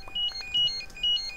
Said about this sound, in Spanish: me llama el teléfono.